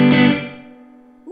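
Guitar chord through the loft reverb preset on a Supro Airwave amp, a loud strummed attack that decays into a long ringing tail, then a faint new pluck at the end.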